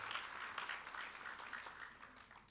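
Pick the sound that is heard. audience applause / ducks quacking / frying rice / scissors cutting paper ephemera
audience applause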